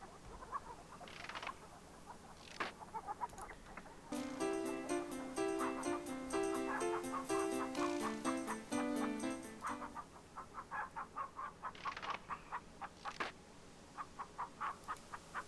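A chicken clucking in the video game King's Quest III, a run of short, rhythmic squawks and clucks with a chiptune jingle playing partway through, all faint and thin.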